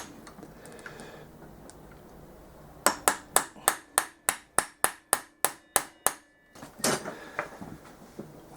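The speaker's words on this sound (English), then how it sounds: "I'm going to try it with my centre punch and a hammer" A hammer strikes a centre punch about a dozen times in a quick, steady series of sharp metallic taps on pit bike screws, close up, followed by a few softer knocks.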